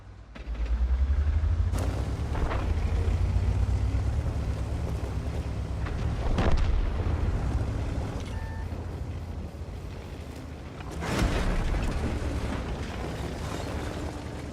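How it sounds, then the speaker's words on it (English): Artillery explosions in the World of Tanks video game boom over a low, steady rumble of game ambience, with three heavy blasts spaced several seconds apart. "Now we have to avoid the artillery."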